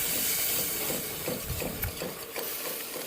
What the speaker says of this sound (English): add in a little bit and then whisk it vigorously because we don't want any clumps in here